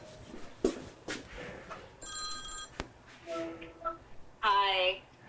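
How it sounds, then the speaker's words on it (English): A telephone rings in a kitchen during holiday baking, several bursts of bright electronic ringing spaced across a few seconds, moderately loud amid faint background noise and clatter. "I got a phone call at the worst possible moment."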